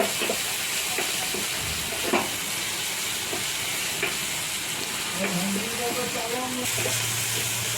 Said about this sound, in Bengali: ক্যাপসিকাম আর কাঁচা লঙ্কা কোচাটা। সেটা ভালো করে একটু ভেজে দিচ্ছি।